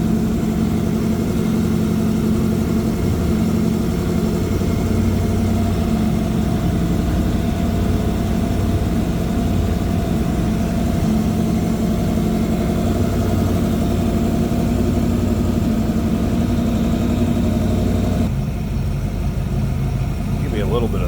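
A 1966 Shelby Cobra replica engine idling, a steady low rumble that runs loud and unbroken for about twenty seconds with a slight change near the end.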